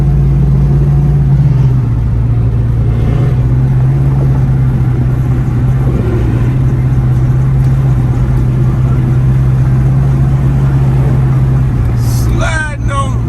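A Dodge Charger on 24-inch Dub wheels cruises down the interstate, its engine droning as a steady low hum with constant road rumble throughout, close and loud.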